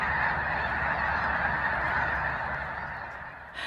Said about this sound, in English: it has what looks like thousands of snow geese